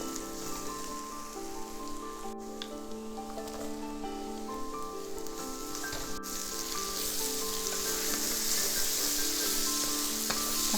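Steady sizzling of tomatoes and softened onions frying in hot coconut oil, a continuous crackle that grows slightly louder, with faint background music and no talking.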